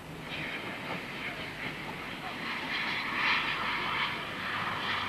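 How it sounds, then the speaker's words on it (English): Light GWR Castle class steam locomotives with a Great Western support coach pass along Teignmouth Bay, a distant, steady rumbling roar that builds gently toward the middle. "Here the light engines with their Great Western support coach are seen passing Teignmouth Bay"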